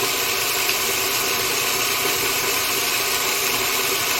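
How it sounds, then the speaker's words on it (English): An electric spice grinder whirs continuously, blending rotisserie chicken seasoning into a fine rub, a steady close-up high-pitched motor buzz with no break. "I'm just going to turn it on and just whisk it really good."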